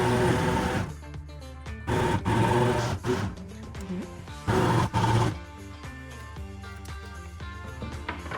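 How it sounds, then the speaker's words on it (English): A food processor chops potatoes, carrots and onion in short loud whirring bursts separated by quieter gaps, the motor pulsing on and off several times up close. "Мы измельчаем овощи в комбайне или блендере"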